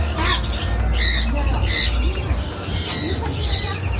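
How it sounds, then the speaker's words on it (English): Conure parrots squawking in harsh repeated bursts around a Caribbean cruise port stop, fairly close and loud over a constant low background hum. "conures. That's why they sound familiar."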